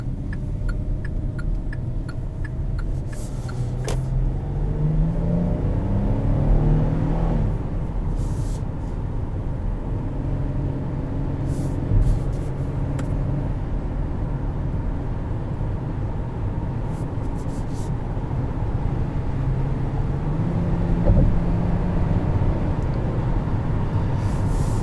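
A 2020 Kia Sorento SUV on the road, heard from inside as a steady low engine and road rumble with a few faint ticking clicks over it.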